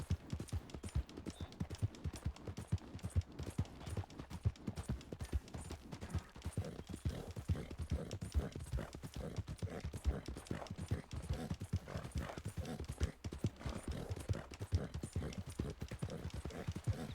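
A horse's hooves clip-clop steadily in Red Dead Redemption 2, a quick, regular rhythm of close, punchy thuds continuing throughout, with faint talk in the background at times.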